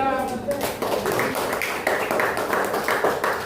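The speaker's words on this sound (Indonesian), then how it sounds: "Dan tepuk tangan untuk kelompok 2." A classroom group of students claps for the second group, rapid uneven hand claps continuing steadily with voices mixed underneath.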